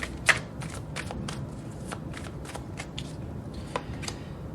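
Tarot deck being shuffled by hand, a string of quick papery riffles and flicks, close and fairly soft, with a sharper snap near the start and no talking over it.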